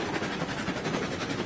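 Four locomotives haul a fully loaded ore train in the video game Railroads Online, a continuous rumbling roll of wheels and heavy engines with steady clatter.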